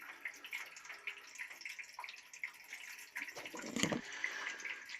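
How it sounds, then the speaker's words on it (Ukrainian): Water leaks from the fittings and screws of a hydrophore pressure tank under repair, a thin steady trickle with a faint watery hiss and a slightly louder splash near the end. "А воно знову, бачите, знову набирається. Все тече тече. Прямо струєчка йде."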